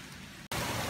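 Rain falls on a mountain trail on Mt. Talamitam, a dense steady hiss close around, briefly cut off for an instant midway before resuming just as loud.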